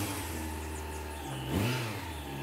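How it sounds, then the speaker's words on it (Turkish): An Opel Astra engine runs at a steady idle, then revs briefly in a swelling surge before settling back, heard close up without voices. "Arabamızı bir çalıştıracağız."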